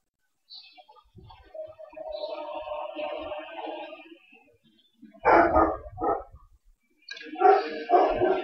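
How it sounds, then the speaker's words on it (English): An excited dog lets out bursts of loud, close barks in two quick clusters, after an earlier stretch of quieter whining and vocal sounds. "The dog's going crazy."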